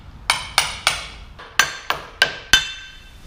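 A brass hammer strikes a tractor transmission part seven times in an uneven rhythm, each blow a sharp metallic impact with a short ring, loud and close with no voices.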